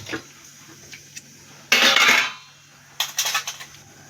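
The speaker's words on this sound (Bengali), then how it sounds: "এবার আমি একটা কড়াই বসিয়ে দিলাম ওভেনে, গ্যাসটাকেও অন করে দিলাম" A kadai wok is set down on a gas stove in a home kitchen while mutton keema with ichor is being cooked: a short, loud metallic clatter, then a second, lighter burst of knocking a moment later.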